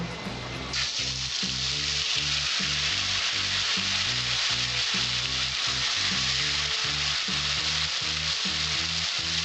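Cumin seeds fry in hot oil with a bright, dense sizzle, backed by a low rhythmic pulsing hum like a kitchen burner or fan, close and continuous without speech.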